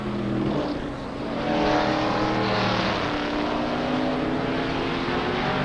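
NASCAR stock cars racing at Suzuka in 1996, a dense, steady engine roar of several cars at speed, loud and sustained with a slight swell as they pass.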